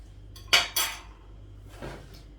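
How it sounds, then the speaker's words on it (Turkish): A metal utensil clinks sharply against a bowl twice while börek ingredients are stirred, followed by a softer scrape, close and otherwise quiet. "Malzemelerimizi öncelikle iyice çırpalım."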